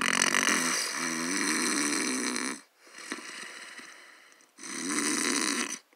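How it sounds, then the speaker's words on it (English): Loud snoring of a sleeping giant: two long, rumbling, rasping snores close up, separated by a brief quieter breath, deep and thunderous. "His snoring soon filled the room like thunder."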